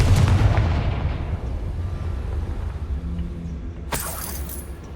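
Confringo spell blast in Hogwarts Legacy, a heavy booming explosion at the start fading into a long low rumble, then a sharp crack with a shattering burst near the end, loud and close, no talking.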